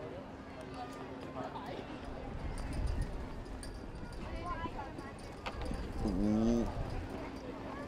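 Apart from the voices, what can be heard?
showjumping horse hoofbeats on course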